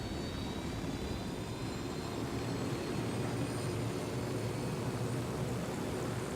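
A helicopter flies in a video game, a steady, loud rotor-and-engine drone that holds without a break and with no talk over it.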